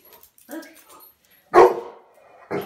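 A dog barks two loud, close bursts a second apart, after softer yips and whimpers, with no one talking over it.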